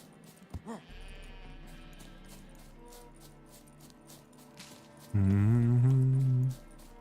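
A loud, close sheep bleat from The Witcher 3: Wild Hunt on the Isle of Mist lasts over a second near the end. Before it come quieter in-game ambience and a faint early bleat.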